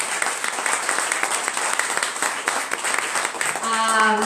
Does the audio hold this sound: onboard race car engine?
no